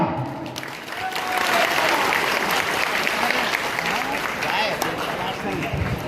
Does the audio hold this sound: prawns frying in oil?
no